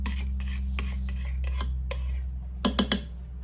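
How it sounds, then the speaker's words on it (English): A spoon scrapes and clinks against a pot while spiced apple oats are stirred, with irregular metallic taps and rubs that end in a few sharper, louder knocks over a steady low hum. "Going to give that a good stir just to mix in all that flavor"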